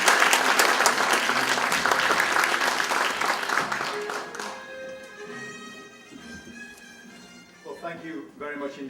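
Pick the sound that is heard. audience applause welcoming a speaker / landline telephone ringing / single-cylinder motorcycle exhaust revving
audience applause welcoming a speaker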